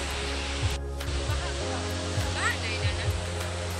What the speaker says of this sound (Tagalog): May ilog mga kabarks. Tingnan nyo, oh. Oh. Malakas ang agos ng tubig mga kabarks.